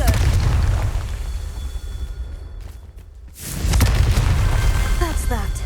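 A Confringo fire spell explodes in the game Hogwarts Legacy: loud, deep booming blasts with rumbling bursts that briefly thin out, then surge back in full and heavy.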